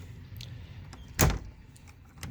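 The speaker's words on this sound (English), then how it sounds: "get this thing unlocked and open the door" A door being unlocked and opened: a few faint clicks followed by one loud, brief thump of the door near the middle, then quiet room tone.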